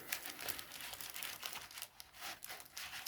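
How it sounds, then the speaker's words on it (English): Foil booster packs for the Digimon card game are shuffled by hand, giving rapid, close crinkling and rustling bursts in an uneven rhythm, with no talk. "I'm just shuffling the booster packs"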